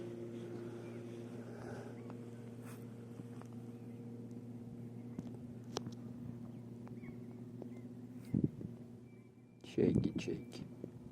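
A steady low motor drone hums continuously from motorboat engines on a river during spring flooding near Yakutsk, with a couple of brief louder knocks near the end.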